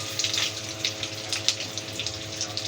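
Rashmi kebabs deep fry in hot oil with a steady broad hiss broken by scattered sharper crackles and pops, heard close and alone.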